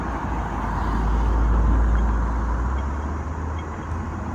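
Cars and other traffic pass on a road at night, a steady close rumble with one heavier vehicle swelling and fading in the middle, no voices.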